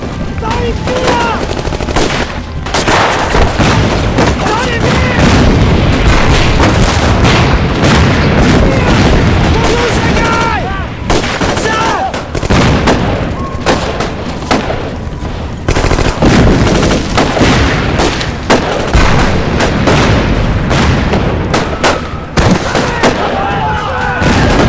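In a war film battle, tank cannon and gunfire keep going: loud booms, rapid machine-gun bursts and sharp shots, with shouting voices mixed in.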